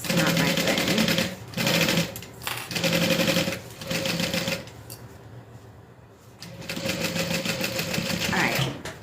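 A sewing machine top stitches a backpack in several loud, close bursts of rapid whirring, separated by short pauses and a quieter stretch before stitching resumes.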